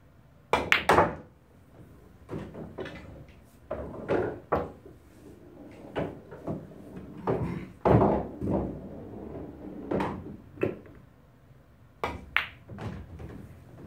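A pool cue strikes billiard balls during stop-shot practice, producing sharp, isolated knocks and clacks spread irregularly across a quiet room, some louder and closer than others.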